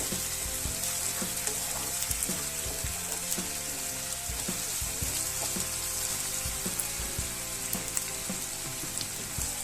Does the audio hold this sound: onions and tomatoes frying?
yes